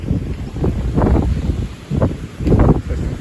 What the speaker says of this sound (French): Le vent se renforce de plus en plus à l'approche d'un front froid assez actif qui devrait donner vraiment de grosses rafales.